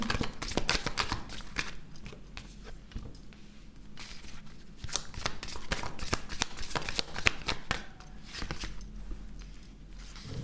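Tarot cards riffle and slap through a steady run of shuffling for about ten seconds, with close, crisp papery flicks and soft thumps as cards are handled and drawn, no voice.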